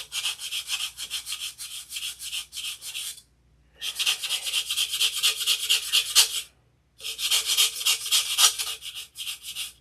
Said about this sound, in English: Sand it flat.